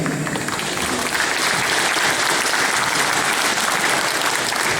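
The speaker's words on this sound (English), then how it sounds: "how about a round of applause for our candidates?" A crowd applauds steadily, a dense wash of many hands clapping at a constant loud level throughout, with no voices standing out.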